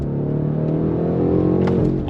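A BMW M850i all-wheel-drive luxury performance car accelerates hard on throttle, its engine note loud, close and steadily rising across the whole stretch with no talk over it.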